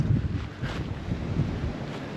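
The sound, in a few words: wind on a mountain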